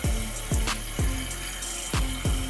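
A repaired toilet tank refills with water, a steady rushing fill under repeated deep gurgling pulses and knocks from the plumbing, close and fairly loud with no talk.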